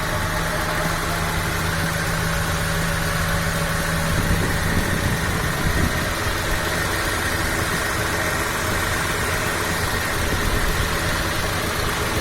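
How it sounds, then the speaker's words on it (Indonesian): The engine of a 1997 Honda Civic Ferio automatic idles with a steady, even hum and faint mechanical ticking throughout, close and continuous with no talking. "Dengarkan suara mesinnya."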